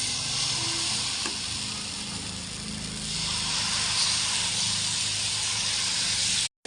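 Pesarattu, a mung bean dosa, sizzling on a hot pan as a steady, fairly loud frying hiss that runs continuously and cuts off abruptly near the end, with no voices.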